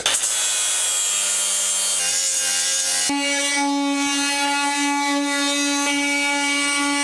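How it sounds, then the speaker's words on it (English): Excess wood in a DIY camper van build is ground down smooth with a power tool, giving a steady, loud, close abrasive whine that shifts pitch twice as the tool bites into the wood. "I left over long on purpose, so I can just grind it off and get it nice and smooth"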